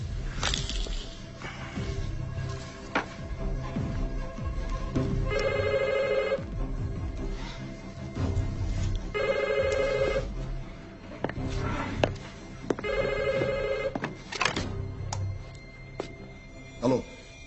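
An old-style telephone bell rings in three spaced bursts, each a bright, rattling trill, set against a tense film score with low rumbles and sharp hits, and no speech.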